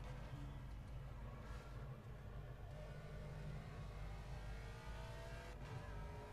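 A race car in Project Cars brakes and downshifts into second gear, the engine note dropping and blipping through descending pitch sweeps, steady and moderately loud with no talking.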